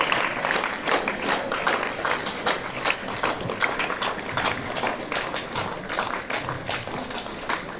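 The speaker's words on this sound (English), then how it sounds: "সবাই হাততালি দেবে, হাততালি যেন সবাই শুনতে পায়" Students clap together at a school assembly, a dense, rhythmic patter of many hands that continues steadily for several seconds with a roomy, crowded sound.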